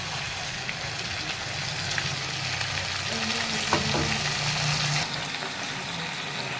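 Potato and onion frying in a pan as ground ginger, garlic, dried chilli and tomato go in, a steady close sizzle with stirring scrapes and a brief bubbling burst midway, no voices.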